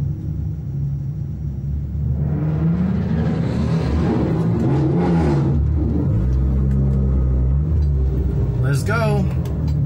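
Fiat 500 Abarth at a drag strip idles with a low engine drone, then revs up and accelerates loudly before settling. A brief sharp whine follows near the end.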